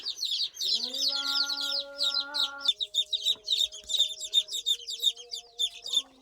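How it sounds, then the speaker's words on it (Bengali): Native chicken chicks on a small farm chirp constantly in a dense, high peeping chorus, while nearby hens give drawn-out, wavering clucks and calls beneath them. "এগুলো দেশি মুরগির বাচ্চাগুলো"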